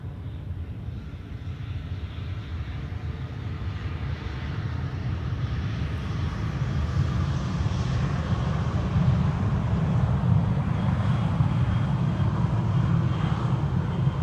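An EasyJet airliner lands at Amsterdam Schiphol, its jet engines a low, steady roar that gradually grows louder as it passes, with no voices.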